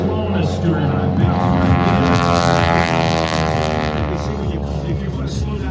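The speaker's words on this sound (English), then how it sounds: "if you want to slow down a Stearman, just pull the throttle back" The radial engine of a Boeing Stearman biplane at an air show drones steadily and loudly throughout, a continuous buzzing roar with harmonic overtones, while a voice talks over it.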